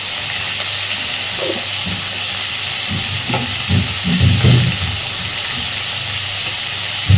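Potatoes and eggplant fry with turmeric and salt in a pan for a Bengali fish curry, giving a steady close hiss and sizzle with occasional scraping stirs, no voices.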